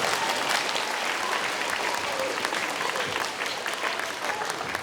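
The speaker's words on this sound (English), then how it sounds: "So, give me a big round of applause." A school audience at a Veterans Day assembly claps for a performer, producing a continuous, fairly loud wash of many hands that holds steady for several seconds and eases slightly near the end.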